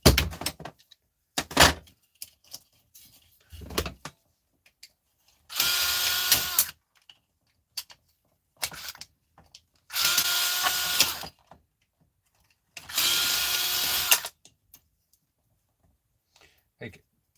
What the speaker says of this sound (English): take off these screws here, take off this here